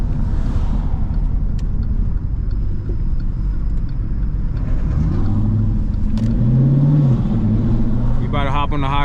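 A Jeep SRT8 drives along a road, its engine giving a constant heavy low rumble from inside the cabin, rising briefly as it revs, with people talking over it.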